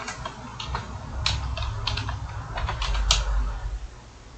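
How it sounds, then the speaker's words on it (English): Typing on a computer keyboard during software work, a quick run of light clicky keystrokes close to the microphone over a low background hum, no talking. "And on the label, let's type archive."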